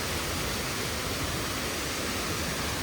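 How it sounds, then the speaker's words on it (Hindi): Batakundi waterfall near Naran pours in a steady, dense roar, loud and close, a continuous broadband rush with no voices over it. "बिगेस्ट वाटरफॉल इन नारायण, सबसे खूबसूरत, सबसे बड़ी वाटरफॉल"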